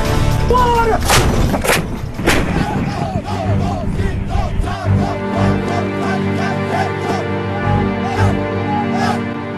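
Indian Army artillery guns fire heavy booming rounds, several loud blasts in the opening seconds, then a long rolling rumble and echo in open ground, with no voices over them.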